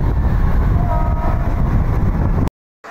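A Mumbai local train pulls into a station for Dadar, with a loud close rumble of wheels and carriages, a brief horn tone in the middle, and a sudden cut to silence near the end.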